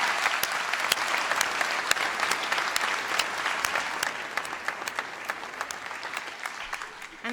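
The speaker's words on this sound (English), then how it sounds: "Let's give them a round of applause." Sustained applause from a graduation ceremony audience for the band, dense and steady clapping with sharp individual claps scattered throughout, fairly loud and continuous with no talk over it.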